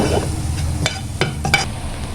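Masala with turmeric powder being stirred and fried on low heat for prawn dum aloo gives off a soft sizzle, broken by three or four distinct spoon scrapes against the pan.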